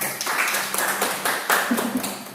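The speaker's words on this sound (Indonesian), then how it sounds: "Beri aplaus pada kelompok 3" A classroom group claps in applause for a presenting student group, a steady patter of many hands lasting a couple of seconds.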